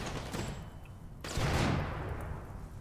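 Gunfire in the colony-building video game Rimworld, fought against mechanoids on sea ice, comes as a few sharp bursts and a heavier booming shot followed by a fading rumble, with no voices over it.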